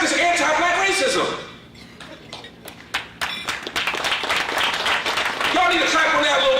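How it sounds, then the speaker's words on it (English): Audience clapping at an annual dinner event, a burst of applause that fades, then sparse claps and talk before the applause swells again, fairly loud and close. "Y'all need to clap on that a little bit more."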